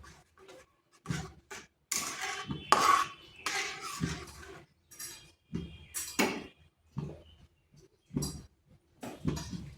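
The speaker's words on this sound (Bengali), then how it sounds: "আর এইভাবে কিন্তু অনবরত নাড়তে হবে" A semolina and egg mixture is stirred in a pan, producing a steady run of close, clinking scrapes from the utensil against the metal in an uneven rhythm, with no voices.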